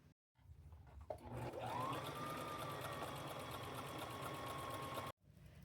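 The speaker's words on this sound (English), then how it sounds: "I'm fixing to take it to my machine, and I'm just fixing to sew it right down the side" A home sewing machine stitches a denim strap down its side, running in one steady, continuous whir that holds a constant pitch for several seconds after a brief start, then stops abruptly.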